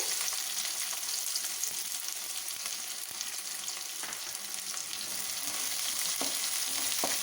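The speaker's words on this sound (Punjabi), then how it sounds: "ਪਿਆਜ਼ ਨੂੰ ਵੀ ਥੋੜੀ ਦੇਰ ਲਈ ਭੁੰਨ ਲਾਂਗੇ" Onions fry with cumin seeds in a hot pan for vermicelli, a constant hissing sizzle with occasional sharp pops and stirring clicks, no voices.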